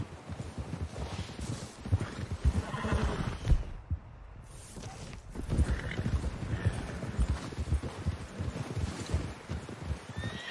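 Horse hooves clip-clop at a trot with occasional whinnies in the video game Red Dead Redemption 2, a busy layered stretch of galloping animals, moderately loud throughout.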